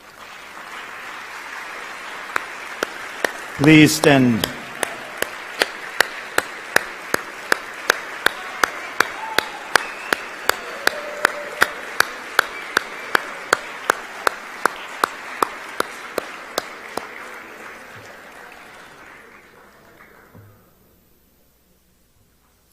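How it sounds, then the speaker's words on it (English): Applause for staff at an athletic awards banquet, a broad crowd clapping that swells and then fades out near the end. A brief spoken request breaks in early, and sharp rhythmic single claps punctuate the wash. "please let's give them a round of applause."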